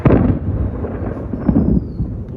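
Thunder from a heavy storm with lightning nearby, a deep continuous rumble that rolls and swells over a couple of seconds, loud and close.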